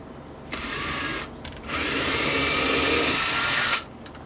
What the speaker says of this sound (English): Drilling in at an angle for a reason.